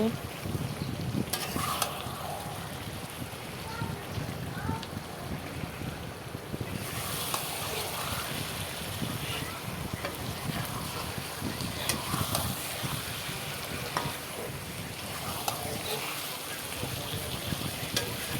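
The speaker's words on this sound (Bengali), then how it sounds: "বন্ধুরা দেখো চিকেনটা কষানো মোটামুটি হয়ে গেছে" Chicken sautéing and being stirred in a pan gives a dense, steady sizzle with spatula scrapes, continuous and close throughout, while a low rumble of stormy weather runs in the background.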